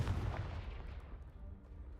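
Confringo fire spell exploding in Hogwarts Legacy, a single low booming blast that decays over about two seconds, fairly faint with no talk over it.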